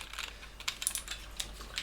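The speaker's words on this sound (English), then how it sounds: "They're all the nice cherry mechanical keyboard clickiness." Cherry mechanical keyboard switches clicking on a synth controller, a steady run of crisp close key taps with a few louder clacks, no voices.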